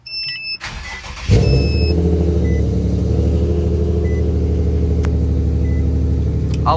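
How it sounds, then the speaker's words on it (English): Infiniti G37 coupe engine cranking over and catching, then settling into a steady, loud idle rumble up close, with a few faint electronic chimes from the cabin early on. "Now we want to start your car."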